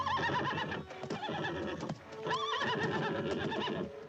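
A horse in a 1954 western film neighs and whinnies loudly and close, with shrill rising calls over busy hoof and scuffling sounds.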